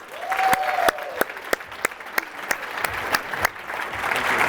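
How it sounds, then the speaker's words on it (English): Seminar audience gives a round of applause, loud and close, with distinct sharp claps standing out over a steady clapping wash and a brief voice at the start. "Give them a round of applause, guys."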